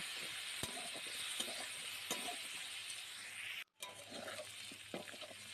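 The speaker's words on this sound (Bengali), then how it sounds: "আগে থেকে কেটে রাখা আলু আলুগুলো একটু লবণ হলুদ দিই হালকা আছে ভালো করে লাল লাল করে ভেজে নেব" Cut potatoes with salt and turmeric fry softly in a pan of oil with panch phoron, a faint steady sizzle broken by occasional spatula scrapes and light clinks of utensils, with a brief dropout midway.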